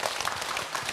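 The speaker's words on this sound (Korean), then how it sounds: "박수로 맞으세요" Audience applause at a Korean Buddhist monk's live question-and-answer session, welcoming a speaker: a dense, steady wash of many hands clapping through the whole moment, close and even.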